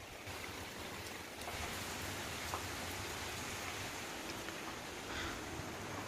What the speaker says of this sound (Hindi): और बारिश अभी हो ही रहा है, थोड़ा सा अंधेरा हो गया है पर बारिश हो ही रहा है।